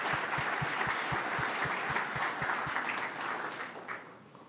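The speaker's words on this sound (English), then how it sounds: "So another round of applause for our professional service providers." An audience at a summer startup demo day applauds the professional service providers, a steady wash of clapping from many hands at moderate distance that tapers off near the end, with a few rhythmic thumps beneath it early on.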